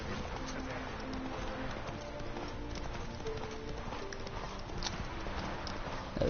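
Roach, the horse in Witcher 3, galloping with a steady run of hoofbeats under ambient game sound, while a voice speaks over it.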